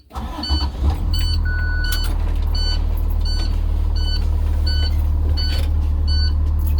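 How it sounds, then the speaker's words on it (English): A bus engine idles after a restart, a low steady rumble close by while air brake pressure builds, with repeated short electronic beeps chirping at regular intervals over the drone. "I'm going to then restart the bus to get the brake chambers to build up"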